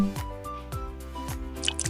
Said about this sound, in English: Let's pour the liquid in the tanks.